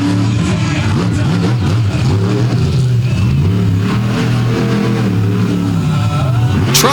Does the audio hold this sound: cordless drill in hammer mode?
no